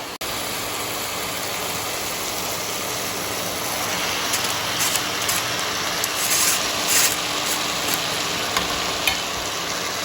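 Boiled noodles tossed with sauces in a hot pan for veg Hakka noodles, producing a continuous close sizzle and rumbling stir-fry noise with bursts of scraping as they are mixed.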